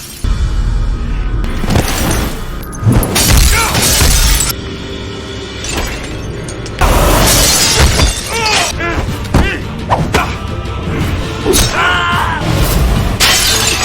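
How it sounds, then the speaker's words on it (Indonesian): A glass booth shatters in several loud crashing bursts during a one-on-one film fight, amid heavy thumps and impacts, with voices shouting over the chaotic fight noises. "Memecahkan bilik kaca menjadi senjata."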